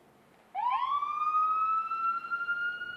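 A Norfolk Fire Rescue emergency vehicle's siren starts abruptly and winds up into a long, steady wail that holds for a few seconds, fairly loud and alone.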